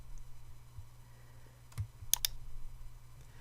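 A computer mouse gives a few sharp, quiet clicks, including a quick double click, close by against a soft room hum.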